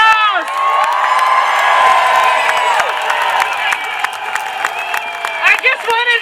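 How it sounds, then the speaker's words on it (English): A large protest crowd at a freedom rally breaks into loud, sustained cheering, whooping and applause, shouts and high voices layered over continuous clapping close by. "let's give them a massive round of applause"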